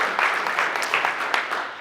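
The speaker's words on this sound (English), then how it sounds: "that's a round of applause for all of you guys" Audience applause at a real estate business event, a steady wash of many hands clapping at moderate loudness, unbroken and with no talk over it.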